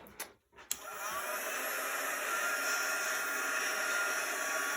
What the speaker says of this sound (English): We're going to get our quick dry tool.